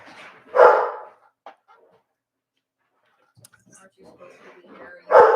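Dogs bark in short, loud, close bursts, one near the start and another at the end, with quieter scuffling and a voice in between.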